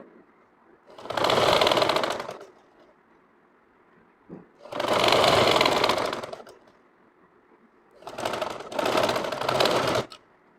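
An electric sewing machine stitches a shirt collar in three separate bursts of fast, rattling needle action, each lasting one to two seconds with quiet pauses between, close and clear with no talking.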